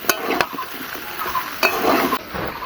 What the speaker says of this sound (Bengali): দিয়ে দেবো ঝিঙে, খুব ভালো করে মিশিয়ে নেবো মশলার সাথে